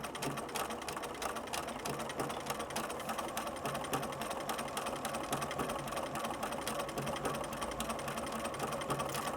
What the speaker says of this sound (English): just guide the machine and let it stitch